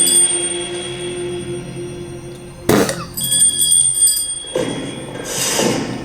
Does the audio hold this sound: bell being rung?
yes